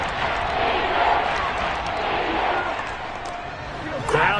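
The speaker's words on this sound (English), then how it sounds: "Crowd getting in it a bit already." Stadium crowd at an NFL football game with a dense, sustained roar of cheering and shouting that swells slightly near the end, heard under a commentator's voice.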